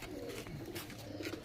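Pigeons of an Andhra breed coo in a loft, soft, low coos barely rising above a steady background hiss, faint and brief.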